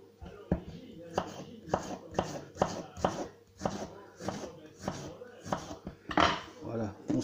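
A knife chops through peeled pears on a board for a pear tart, with a quick run of firm, irregular cuts close by while someone talks over them.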